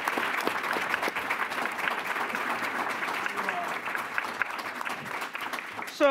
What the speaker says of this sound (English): let's give Major General Marsha Anderson a round of applause and welcome